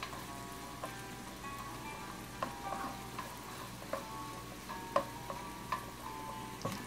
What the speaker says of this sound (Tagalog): nilalagyan na po natin yung tinadtad na sibuyas